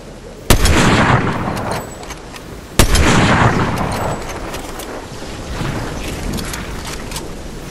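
Two loud, sharp shotgun blasts in Fortnite fire a couple of seconds apart, each followed by a decaying roar, over steady wind-like ambient noise.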